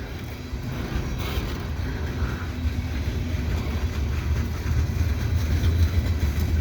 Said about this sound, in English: It's actually the second train I've gotten today here at Dorval